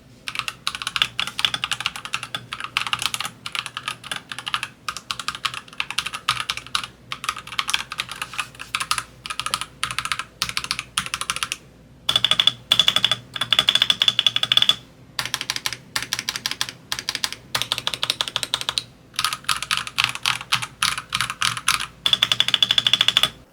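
Rapid, fairly loud clacking from a Royal Kludge RK96 keyboard with pre-lubed yellow linear switches and two silencer foams inside the shell, typed in steady bursts with brief pauses and no talking.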